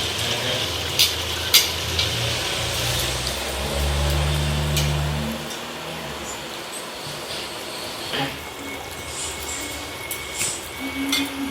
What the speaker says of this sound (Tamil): ஸோ இந்த ஸ்டேஜில் நான் ஊற வச்ச அரிசியை அதில் போட்டுருவோம்.